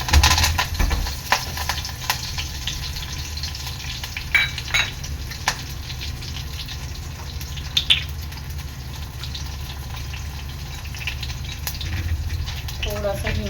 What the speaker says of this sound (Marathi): फोडणीसाठी मी इथे लसूण जिरं आणि कढीपत्ता घेतलेला आहे